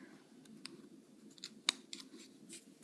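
Scissors snip through paper while crafting book-page earrings, a few quiet, crisp cuts spread across the moment with one sharper snip standing out, heard close and alone over a low steady room hum.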